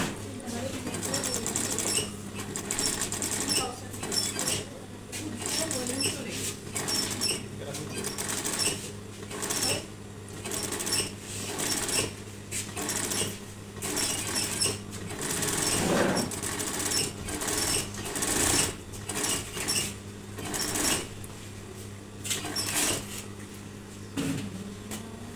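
An industrial sewing machine stitches a long-sleeved shirt's sleeve seam in rapid bursts of fast mechanical clatter, stopping and starting repeatedly over a steady motor hum, close by.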